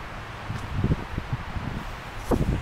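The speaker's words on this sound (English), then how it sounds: "Holy cow, it's so windy." Strong wind gusts outdoors, buffeting and rustling in short bursts with a low rumble against the microphone, loudest in a couple of brief gusts.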